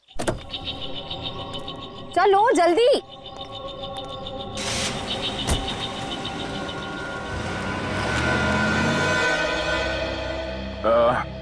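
A car starting and driving off, with a rising engine drone that grows louder and steadier through the second half, preceded by a brief melodic electronic tone, as someone talks briefly over it.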